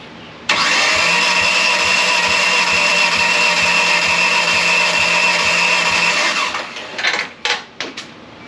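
A cold 4G63 engine in a DSM drag race car cranks with a rapid, even rhythm for several seconds without firing, then the sound cuts out into a few short clunks.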